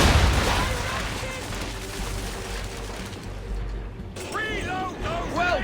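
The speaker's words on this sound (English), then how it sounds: "Make ready, boys! Fire broadside!" A sailing warship's cannons fire a broadside in the video game Assassin's Creed III: heavy booming volleys over water and ship ambience, with a loud blast at the start and shouted voices and chirping effects later.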